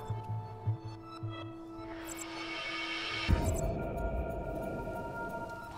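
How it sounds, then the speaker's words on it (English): Deep low rumble swelling up in a video game set in a void station, rising suddenly midway and holding steady beneath a faint hum, with no one speaking. "What's the rumbling, though?"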